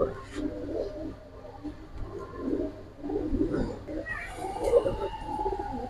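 Pigeons coo softly and continuously in low, murmuring bursts nearby, partly under a voice, with faint background rustle.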